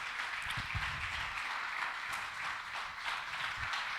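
A church congregation breaks into sustained applause at a sermon, a dense wash of clapping filling the space with faint cheering mixed in throughout.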